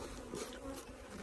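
Honey bees buzzing around a hive beside a plastic feeder, a soft, continuous drone of many wings close by, with no voices.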